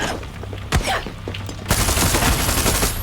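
Gunfire in Far Cry 6: a sharp shot near the start, then a dense, loud fusillade of rapid automatic fire that carries through the rest without pause.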